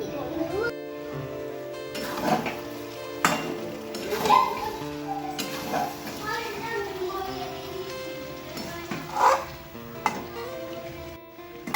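Chicken frying in a small kadai during kosha, giving a steady sizzle with clinks of a stirring spoon against the pan and someone talking over it.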